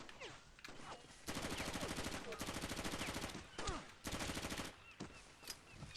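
Bursts of rapid automatic gunfire from the video game Far Cry Instincts Evolution, several long sustained volleys separated by short pauses, loud and close.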